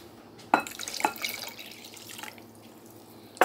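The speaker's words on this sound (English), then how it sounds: "I'm going to add 1 cup of water to that, just to thin it out" Water poured from a cup into homemade cocktail sauce in a kitchen, heard as a few brief splashes and drips with a steady liquid trickle between them, close and fairly quiet.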